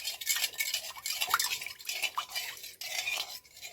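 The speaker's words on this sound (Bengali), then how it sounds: "এবারে সব কিন্তু ঠান্ডা একসাথে একটু ভালো করে ঘেটে নিতে হবে।" A spoon stirs a cold tender-coconut pudding mixture in a bowl, giving soft scraping and faint clinks against the container in a quiet, close, irregular rhythm.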